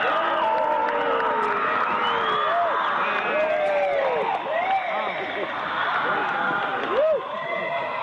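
A large crowd at the close of a Bohemian Grove ceremony cheers and yells continuously, with many overlapping voices and rising whoops, loud and dense throughout.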